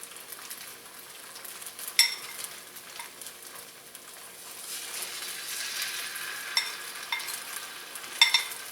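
Shrimp for Kung Pao sizzle steadily in hot canola oil in a pan, a continuous hissing fry with a few sharp utensil clicks and taps against the pan, close up and with no talk.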